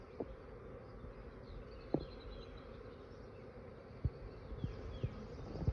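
Bees hum steadily around beehives kept in boxes, a continuous low insect drone with a few sharp knocks and taps standing out over the buzz.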